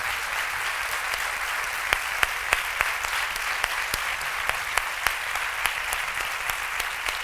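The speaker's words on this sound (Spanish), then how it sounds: "Le damos el aplauso final a Mara Torres." A theatre audience gives a final round of applause, a dense and even roar of clapping with a few sharp, distinct claps popping out near the front, sustained throughout.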